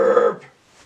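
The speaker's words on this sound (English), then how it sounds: "Burp!" A single loud, close burp from a person, a voiced rumble lasting about a third of a second and then fading into near silence.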